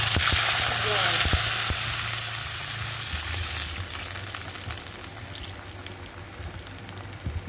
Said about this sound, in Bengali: দেখো রসুনটা কিন্তু আমার ভাজি হয়ে গেছে